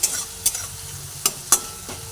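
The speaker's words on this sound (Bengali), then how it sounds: "সেই কাজু বাদামটাও এই তেলের মধ্যে দিয়ে দিলাম সব একসঙ্গে ভেজে নিচ্ছি" Okra, bori and cashew frying together in oil, a continuous sizzle with several crisp spatula scrapes and clicks spaced unevenly, close and clear.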